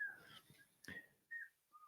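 Faint, high whistling notes come in short separate bursts with a soft click in between, quiet and sparse.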